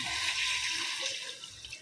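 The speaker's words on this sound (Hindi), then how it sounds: "अभी इसमें पानी डालेंगे" Steady rushing water pours into a cooking pot of masala dal for a couple of seconds, a close, even pour with a soft hiss and no voices.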